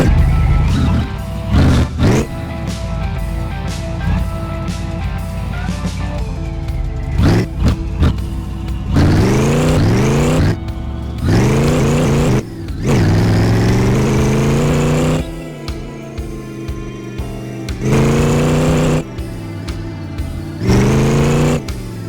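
A go-kart engine in the video game My Garage on a test drive, buzzing loudly with repeated rising revs and drops, each surge climbing in pitch before falling back as the throttle is worked again and again.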